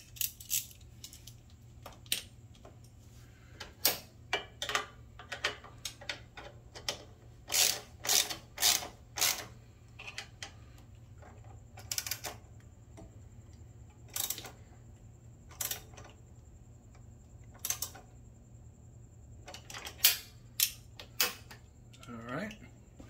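Ratchet clicking in repeated short bursts while tightening the bolts of a Hepco and Becker saddle bag mounting kit on a Moto Guzzi V7 Special motorcycle, close and crisp, with quiet pauses between runs.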